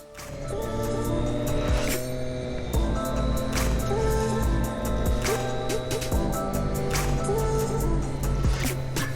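A Triumph Daytona motorcycle rides along with a steady, loud engine drone and wind rush throughout, the engine note rising and falling with periodic gear changes.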